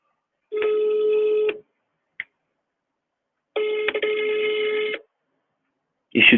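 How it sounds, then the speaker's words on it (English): Telephone dialing a number and ringing: two long electronic ring tones about a second each separated by a brief blip, ending with a short burst of another sound, loud and close against silence. "I am dialing."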